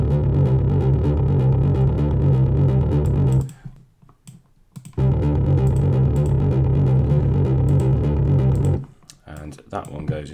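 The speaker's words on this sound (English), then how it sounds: "That one goes into a couple of the Omnisphere distortion plugins, the Foxy Fuzz and the Ultra Chorus to fatten up a bit." A heavy riff fattened with Omnisphere distortion plugins, Foxy Fuzz and Ultra Chorus, played loud and dense in two long bursts separated by a brief near-silent gap, with a short quieter stretch at the end.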